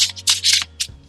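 Tarot cards are shuffled up close in quick, crisp riffling bursts with short gaps between them, over a low steady hum.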